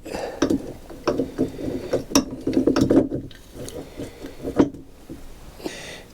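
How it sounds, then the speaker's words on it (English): Nuts being tightened on the rear final drive of a Kawasaki GTR1000 motorcycle, heard as close ratchet clicks and metallic turning in short irregular bursts with no talk. "Get all 4 nuts on there, just tighten them up loosely."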